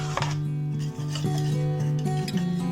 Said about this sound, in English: Then salt as per your taste, and we will just mix it well.